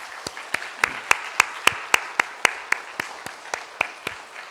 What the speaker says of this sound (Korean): 이들을 위해서 감사의 박수를 한번 하겠습니다.